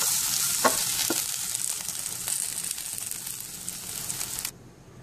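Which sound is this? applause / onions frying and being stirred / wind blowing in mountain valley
onions frying and being stirred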